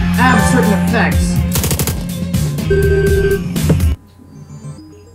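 Rapid gunfire in the game Long Gone Days, a loud burst of repeated shots over music and game tones, cutting off abruptly near the end into quieter ambience.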